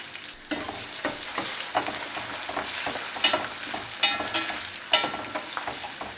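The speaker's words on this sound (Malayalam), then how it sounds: "എന്നിട്ട് നമുക്ക് ഇതെല്ലാം ഒന്ന് മൂപ്പിച്ചെടുക്കാം" Garlic, around twenty cloves, frying with spices in oil in a pan for mango pickle: a constant bright sizzle, broken by repeated loud scrapes and clanks of a spoon stirring against the pan, close up.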